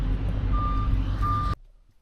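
A firewood delivery truck idles loudly with steady low engine rumble while two high reversing beeps sound, then the engine cuts off abruptly into near silence.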